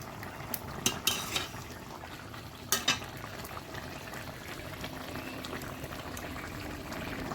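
Rohu fish and potato curry bubbling in a pot, a soft continuous simmer with a few sharp clinks of a utensil near the start, fairly quiet with no voices.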